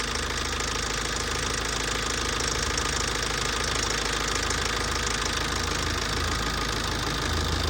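A car engine idles steadily after injector repair, with a dense, even mechanical rumble and faint ticking, close and continuous with no talking.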